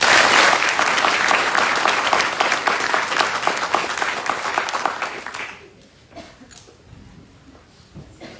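Audience at a military graduation ceremony at Fort Jackson, South Carolina gives a loud, sustained round of applause that fades out after about five seconds, leaving a quieter room with scattered sounds.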